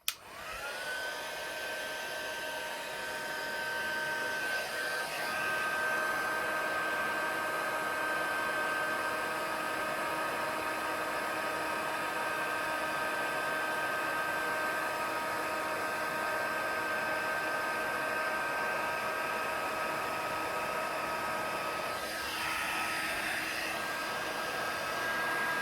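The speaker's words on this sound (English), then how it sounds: "So I'm just going to grab the heat tool. So it's just going to get a bit noisy," A craft heat tool heat-sets embossing powder on a card with a steady, loud blowing whir and a high motor whine that runs on without a break for about 25 seconds.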